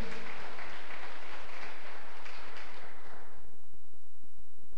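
Church congregation applauding together during an evening worship service, a dense wash of clapping that holds steady for several seconds and then thins out and fades near the end.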